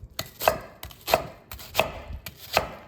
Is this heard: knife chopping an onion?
yes